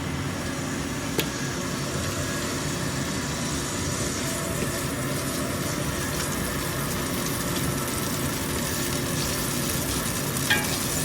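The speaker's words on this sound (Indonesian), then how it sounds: "Jadi ini udah aku kasih minyak sedikit. Kita masukin jahe." Ginger sautéing in a little oil in a pot gives a steady, close sizzle that holds for several seconds, with a couple of faint clinks from stirring.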